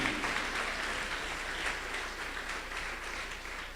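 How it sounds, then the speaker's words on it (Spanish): A church congregation applauds during a Spanish-language sermon, a steady, dense wash of clapping that holds for nearly four seconds with no voices on top. "Dale fuerte el aplauso al Señor, hermano."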